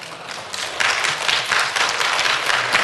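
A church congregation breaks into clapping and applause during a Sunday sermon, a dense steady patter of many hands that swells slightly after the first second and carries on evenly without voices.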